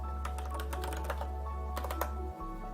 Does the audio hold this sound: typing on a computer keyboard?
yes